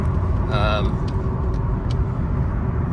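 A Honda Civic Si heard from inside on a test drive, its engine droning loud and steady under road rumble as it accelerates through the gears, with a brief tonal whine and talk over the noise.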